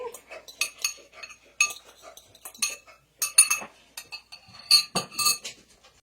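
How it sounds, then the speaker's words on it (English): Hard-boiled eggs being chopped and dropped into a bowl, producing sharp, irregular knife taps and clinks on a board and dish, close and crisp with short pauses between bursts. "you want to go ahead and chop them up, and we're going to throw that in here as well"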